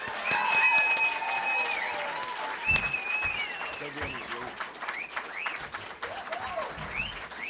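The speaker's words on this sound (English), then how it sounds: "Clap for Regina." An audience claps to welcome Regina Mobley to the stage, the applause mixed with sustained tonal sounds like music or vocal whoops and fading somewhat after a strong start.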